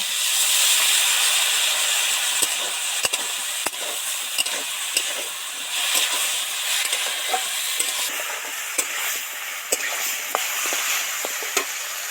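Vegetables, including taro and potato, fry in oil with cumin, coriander and chili powder, giving a steady close sizzle and hiss broken by frequent sharp clicks and scrapes of stirring.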